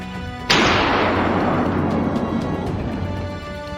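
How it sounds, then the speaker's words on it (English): A single sharp blast at the start, then a long rumbling roar that slowly fades over a few seconds, a rapid volley of gunfire echoing through a forest. "A rapid volley of gunfire followed, bringing the target down before it could escape."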